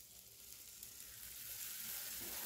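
A large tomato and a spoonful of black mustard paste sauté in a pan, giving a faint, airy hiss that swells slightly toward the end, with no talking.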